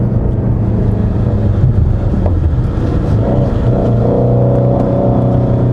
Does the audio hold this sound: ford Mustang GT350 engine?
yes